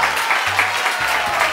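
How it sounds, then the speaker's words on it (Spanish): Studio audience applauding on a TV show, a dense burst of clapping, loud and close, with low hum underneath and no speech. "Aplaudan esto, por favor."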